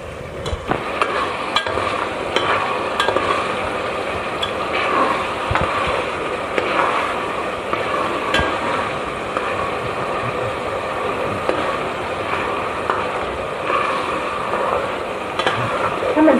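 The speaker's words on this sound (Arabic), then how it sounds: "البصله انا مش هصفرها قوي، انا هخليها تبقى شفافه" Chopped onion stirred and sautéed in a pan with black pepper, cooked slowly until translucent rather than browned, giving a steady close sizzle with occasional spoon scrapes and knocks for the whole stretch.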